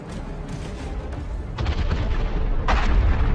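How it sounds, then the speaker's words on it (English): Heavy booming blasts roll in as a T-72 tank hits two mines near Avdiivka, a muffled explosion followed by a louder second burst as its ammunition ignites, deep and rumbling with crackling aftermath. "Another epic explosion."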